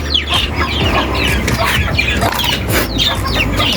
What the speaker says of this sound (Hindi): इनमें हलचल शुरू हो गई अचानक से